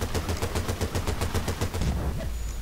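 Rapid automatic gunfire in the video game Battlefield 2, a fast, evenly spaced burst of loud shots lasting about two seconds before it stops.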